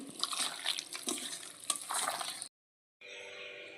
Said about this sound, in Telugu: ఇప్పుడు ఇవన్నీ వేసుకుని బాగా కలుపుకోవాలి మసాలా అంతా ముక్కలు పట్టే వరకు బాగా కలుపుకుందామండి